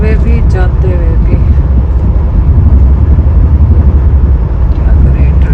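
Road traffic streams past on a busy street, a constant loud rumble of engines with brief honks or whines near the start, under a voice.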